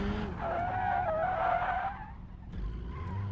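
A car skids hard after the handbrake is yanked in the BeamNG.drive driving game, a loud, steady tire squeal lasting about two seconds over engine noise, then fading as the motor keeps running.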